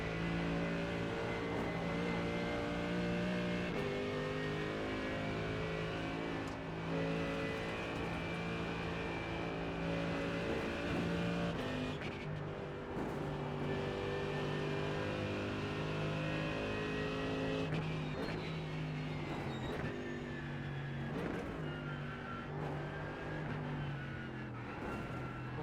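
A GT3 race car lapping Bathurst in the iRacing sim, its engine a loud, steady in-car drone that rises and falls with throttle and gear changes, running the whole time without talk.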